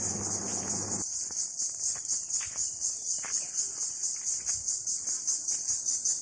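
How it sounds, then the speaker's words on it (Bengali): Crickets chirp steadily in a forest park, a dense high pulsing trill running throughout, after a brief low rumble at the start, with faint scattered bird and rustling sounds beneath. "পাখি আর ঝিঝি পোকার ডাক শুনতে শুনতে এই অরণ্যের মধ্য দিয়ে হাঁটতে খুবই ভালো লাগছিল আমার"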